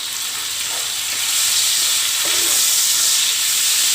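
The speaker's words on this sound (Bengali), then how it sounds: "তো এখন আমি এগুলাকে একসঙ্গে একটু ভালো করে ভেজে নেব" Chopped green chilies and ginger frying in a pan for a tangra fish curry, a steady loud hiss of sizzling oil that swells slightly midway, close with no talk.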